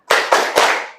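A group of students does rhythmic 'tepuk semangat' clapping in a classroom: three quick, loud, unison claps in a short burst, close and clear.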